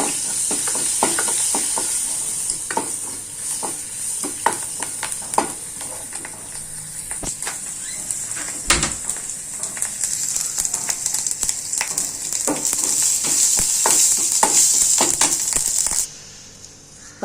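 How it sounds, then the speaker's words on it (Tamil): Mustard seeds and chopped green chilies sizzle in a pan for dal rasam, a steady crackling hiss broken by sharp popping bursts, close and without any voices. "கடுகு பொரிஞ்ச உடனே நம்ம இந்த பச்சை மிளகா ஒரு 2-3 வெட்டி வச்சுருக்கேன், அதையும் ஆட் பண்ணி"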